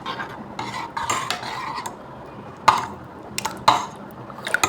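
A spoon stirs a fried tempering into buttermilk for kadhi, with soft swishing and repeated clinks of metal against the vessel, a few louder taps standing out over a quiet background.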